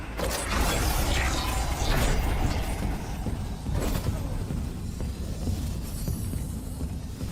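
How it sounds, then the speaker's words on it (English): Aboard the ship's machine shop in the Dead Space game, dense mechanical machinery churns and creaks steadily, with ratcheting, gear-like clanks and occasional heavy thuds layered through a loud, continuous industrial drone with no one talking. "To get there, we're passing through the machine shop over here."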